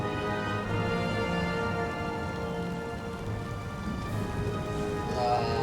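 Steady rain patters and hisses across a battlefield in the strategy game Empire: Total War, with faint low rumbles beneath and occasional musical tones over the downpour.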